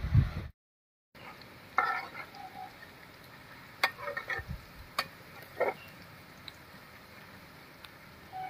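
Semolina frying in oil in a pan for sujir pulao, with soft sizzling and intermittent stirring clicks and scrapes, close and fairly quiet, with a brief silent gap near the start.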